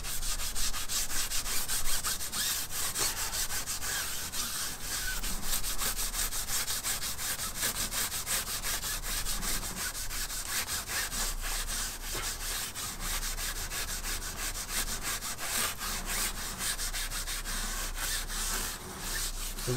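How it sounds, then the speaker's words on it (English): Steady scrubbing with a cloth and rubbing alcohol to lift paint overspray off a car tire, continuous close rasping friction strokes for the whole stretch with no speech. "come over here and just rub that stuff right off."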